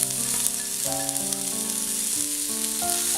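Chopped onion and red spinach fry in olive oil for a stuffed spinach cheese omelette, with a constant close hiss and crackle and some stirring scrapes, and no voices.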